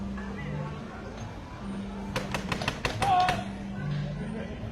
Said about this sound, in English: Yes, knocking on the door, hoping to see Creature up there.